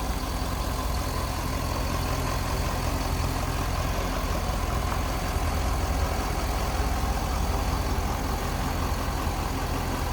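A 2005 Chevrolet Corvette coupe's engine idles smoothly and steadily, a constant close-up hum with no revving and no voices.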